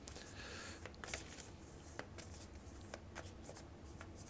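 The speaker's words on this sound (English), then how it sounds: "I just shuffle them until one kind of pops out to me to pick." Oracle cards shuffled by hand from an Oracle of Rama deck, giving a run of soft papery riffles and sharp card slaps at an uneven rhythm, close and quiet with no talking.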